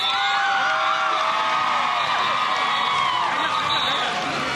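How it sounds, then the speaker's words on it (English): Students at a high school pep rally at Steele Canyon High School cheer and whoop loudly. The crowd roar is continuous and dense for the whole stretch. "Cougars, give them a round of applause."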